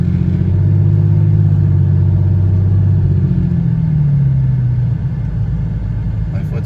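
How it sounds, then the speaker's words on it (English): Engine and exhaust drone of a 2001 Porsche 911 GT3 tribute heard from inside the cabin, a steady low rumble that slowly falls in pitch as the car eases off, fairly loud and continuous. "It's surprisingly quiet in here over that GT3 sounding exhaust system."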